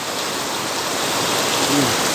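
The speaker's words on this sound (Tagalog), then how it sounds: "Dinig nyo yung sa bubong. Ha? Lakas. Galit na galit ng ulan." Heavy rain drums steadily on a roof during a strong downpour, a dense, continuous hiss that swells slightly toward the end, loud and close, with a faint voice briefly audible beneath it.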